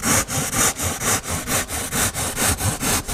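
A hand rasp shapes a wooden heart in quick, even back-and-forth strokes, about a dozen scraping passes heard up close with a steady rhythm and nothing else over them.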